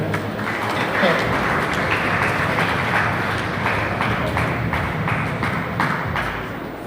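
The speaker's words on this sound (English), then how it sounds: "A round of applause for him." A business summit audience claps in a steady, full round of applause that holds at an even loudness for several seconds and tapers slightly at the close.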